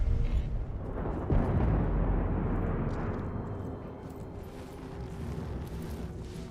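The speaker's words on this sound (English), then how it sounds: "I said the explosion was loud." A loud explosion in the video game Deathloop bursts with a deep rumbling boom, then rolls into a long decaying roar that slowly fades but lingers throughout, with no talking.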